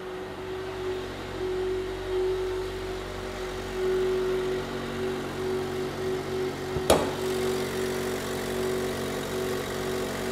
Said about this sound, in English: the internal combustion engine will start whenever we open the hood